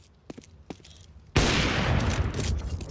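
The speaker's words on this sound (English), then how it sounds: "Pulls off a shot" In a Counter-Strike 2 match, a sharp shot breaks out after a quiet lead-in with faint clicks, followed by a loud, noisy burst of sustained firing or explosion-like roar.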